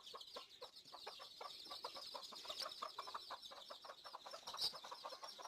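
Chickens and ducks at a rural homestead call steadily and fairly close, with a dense run of rapid clucks and chatter that continues without a break and has no talk over it.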